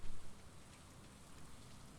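Steady rain falling in a farming video game, an even, soft hiss of rainfall that runs throughout with no talking over it.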